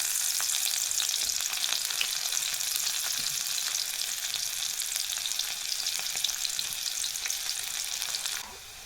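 Crushed garlic sizzling in hot oil in a clay pot with cumin, a loud, dense, steady crackle and hiss close up that runs evenly before dropping off sharply near the end, with no voices.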